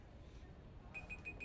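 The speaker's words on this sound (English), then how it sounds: "I would apologise if you can hear my alarm going off in the background." An alarm sounds in the background at a kart club race meeting at Whilton Mill: a faint series of short, high repeating beeps under a noisy background, coming in near the end.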